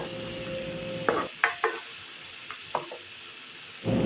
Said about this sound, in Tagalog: At naglagay lang din ako dyan ng salt and pepper para may lasa na sila habang ginigisa natin yung ating mga ingredients.